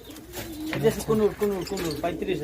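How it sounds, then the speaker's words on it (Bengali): Pigeons on a pigeon farm coo in a steady series of low, rolling, throaty calls, close by and fairly loud, with the birds overlapping one another throughout. "এই হচ্ছে কবুতর না"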